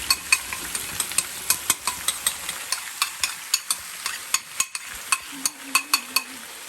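A spoon scrapes in steady rhythmic strokes as sour cream is stirred through a chicken, leek and mushroom pie filling in a pan, with a soft sizzle underneath; close and fairly loud, with no talk.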